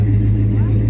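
A Pontiac 350 V8 engine running at a classic car show, a steady loud low-pitched idle hum with a deep rumbling drone held for a moment close by.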